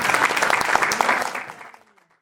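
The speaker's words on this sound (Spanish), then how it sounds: "Un aplauso de vuelta." Audience applause closes a press conference in Montevideo, a burst of many clapping hands that holds briefly and then fades away to silence.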